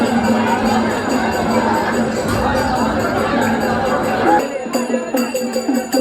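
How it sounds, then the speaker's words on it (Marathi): Dense crowd at the Jejuri temple near Pune, a loud continuous murmur of many voices and shuffling close around, with a bell-like ringing near the end. "जाम अशी गर्दी"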